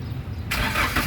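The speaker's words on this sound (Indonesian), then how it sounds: "barulah kita coba nyalakan mobil" A 2015 Daihatsu Gran Max 1.5 diesel with manual gearbox starts, with a quiet moment before the engine abruptly catches and settles into a loud, rough idle nearby.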